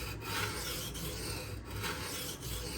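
Steady rasping strokes of a Benchmade Anthem knife blade across a sharpening stone, close and continuous with faint rhythmic pulses.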